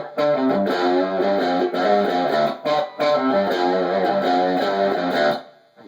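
An electric guitar plays a riff with a slight bend on the sixth string, in choppy distorted phrases with short gaps, up close and with no talking.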